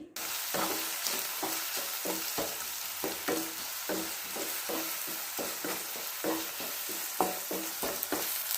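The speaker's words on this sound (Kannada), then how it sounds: "ಸ್ವಲ್ಪ ಉಪ್ಪನ್ನು ಸೇರಿಸಿ ಫ್ರೈ ಮಾಡ್ಕೊಳ್ಳೋಣ" Onions sizzle in a pan with salt, a steady close frying hiss broken by regular scraping strokes of a spoon stirring, roughly two strokes a second, with no voices.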